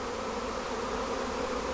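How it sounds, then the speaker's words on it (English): Dense, steady buzzing of many bees swarming around a crowded beehive after a failed Demaree swarm-control split, close and continuous with no gaps. "This hive is crazy busy."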